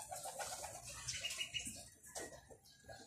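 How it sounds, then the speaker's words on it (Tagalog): Racing pigeons coo softly at a loft in a few low, burbling phrases, with some faint chirps and rustling, quiet and close, no talk. "Ayan, yung ating mga ibon, mga kalapatids."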